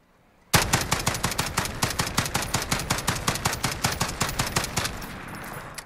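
Rapid, evenly spaced shots from a DSA-58 rifle in Call of Duty Modern Warfare, loud and close, about two dozen sharp reports in a steady rhythm with no talking.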